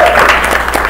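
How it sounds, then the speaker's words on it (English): A brief burst of audience applause, many hands clapping together in a dense, steady patter. "Can we give a resounding Super Bowl type round of applause to Annie and the Wix team?"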